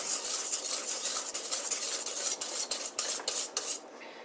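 Gritty scraping as a whisk stirs a sugar mixture rapidly against the bottom of a metal double boiler pan, continuous and close, with a rasping, sandy texture.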